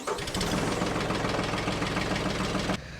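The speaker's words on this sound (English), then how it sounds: "we'll let the tractor warm up for a minute" A tractor engine idles steadily while warming up on a farm on a cloudy winter day, a close, even chugging that cuts off sharply near the end, leaving quieter background.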